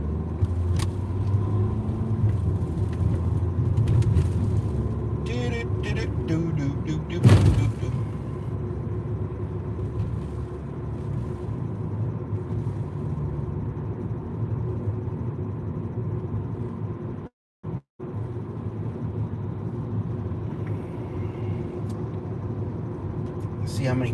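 A car drives along a road as other cars pass by, giving a steady close engine and road rumble throughout, with a brief sharp bump near the middle and two short dropouts toward the end. A person talks over the noise.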